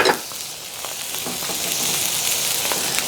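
Oil sizzling on a hot griddle ready for halibut and bok choy, a steady bright hiss that swells after the oil hits the surface and stays loud and continuous; no talking.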